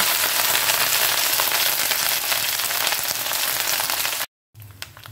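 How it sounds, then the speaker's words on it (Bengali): Cumin seeds, crushed ginger and green chilli sizzle loudly in hot oil, a dense steady crackle that holds for about four seconds. It cuts out briefly, then returns softer for the last moment. "এবার আমি যে আদাটা থেতো করে রেখেছিলাম কাঁচা লঙ্কার সাথে সেটা অ্যাড করে দেব"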